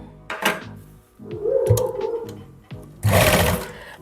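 A sewing machine stitches a sweetheart neckline onto fabric in two loud, close whirring bursts with a short pause between, plus a brief clatter at the start.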